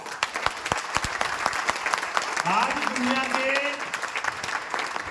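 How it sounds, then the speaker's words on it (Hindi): Loud applause from a seated audience at a cryptocurrency seminar in India, a dense burst of clapping lasting the whole time, with a voice briefly speaking over it midway. "तो एक बार बिटकॉइन के लिए जोरदार ताली हो जाए।"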